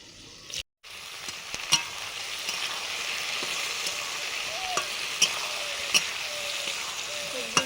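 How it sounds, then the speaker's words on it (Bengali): Eggplant frying in mustard oil in a pan, producing a steady close sizzle after a brief gap, with periodic sharp clicks of a spatula and stirring scrapes. No speech is evident. "বেগুনটা ভাজা হয়ে গেছে"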